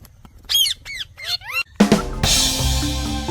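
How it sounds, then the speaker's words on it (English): A parrot in a jungle animal sounds game for kids squawks four times in loud, rhythmic bursts, then a broad rushing sweep of noise and layered tones takes over. "It's a parrot."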